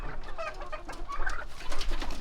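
A molting hen clucks and calls in a farm backyard, a run of soft, irregular bird sounds at close to medium distance with other fowl faintly around and no clear speech.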